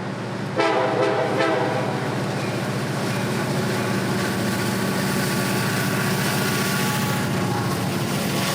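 An EMD-powered freight train meets an opposing northbound train just south of a rail yard, its horn sounding briefly early on over a steady, loud rumble of engines and rolling wagons that continues throughout.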